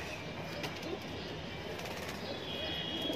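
A high flyer pigeon gives soft, faint cooing over a quiet, steady background hum, with no other clear sounds standing out.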